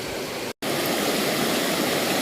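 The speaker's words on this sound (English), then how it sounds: "I'm having to shout slightly over the noise of the water because we're heading quite close to the waterfall now" Loud, steady roar of a waterfall and rushing river water in the city of Bath, near and continuous, broken by one very brief dropout.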